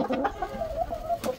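A chicken clucks in a short burst of close, fairly loud clucks over a brief stretch of background noise.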